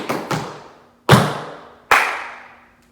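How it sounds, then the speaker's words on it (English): Tap shoes strike a hard floor in a beginner step: two quick light taps, then a heavy stamp and a sharp clap, each hit ringing briefly before fading, close and alone. "Leap, shuffle, leap, stamp, clap."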